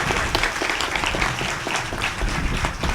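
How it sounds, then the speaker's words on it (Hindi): Audience clapping fills a Hindi religious discourse gathering: a dense, steady burst of many hands applauding together at close range for about three seconds, with no speech over it. "जेड़े खुश हुए हैं ताली तो मार दो"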